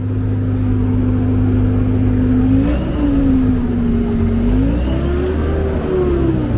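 A Daimler Ferret armored car drives along Houston city streets, its engine droning loud and close, the pitch rising and falling as it shifts and accelerates for several seconds.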